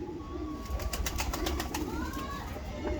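Pigeons coo in a low, rolling murmur, close by and continuous, with a few higher sounds over the top.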